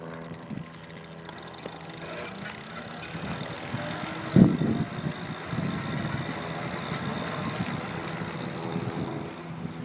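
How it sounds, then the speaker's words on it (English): A low, steady electric motor hum from a ProdecoTech Stride 500 e-bike climbing a hill runs throughout alongside wind rumble and outdoor movement, with a brief louder clatter near the middle. "show you what the battery and motor sound like when activated"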